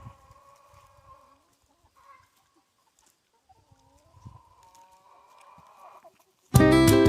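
Chickens on a small homestead farm cluck softly and sporadically near a coop, with quiet gaps between calls, before a sudden loud burst of noise cuts in at the end.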